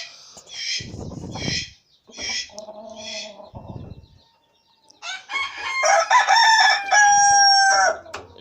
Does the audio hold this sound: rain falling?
no